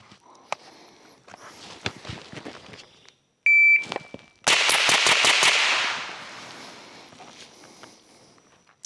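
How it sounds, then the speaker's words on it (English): A B&T APC 9mm fires a rapid string of about six loud, sharp semi-automatic shots in a tight, even rhythm, preceded by a shot timer's beep and followed by a lingering outdoor echo and faint shuffling. "So we're gonna try it normal, true semi-automatic, and then we'll do it with the giggle switch"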